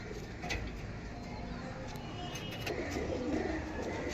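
Pigeons coo steadily in a loft of old male pigeons with white heads, a low continuous murmur of several birds with faint higher chirps and rustling throughout.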